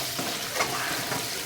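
Dried chilli, curry leaves and tempering spices frying in hot oil for a ridge gourd milk curry, giving a steady close crackle with a slightly louder burst partway through.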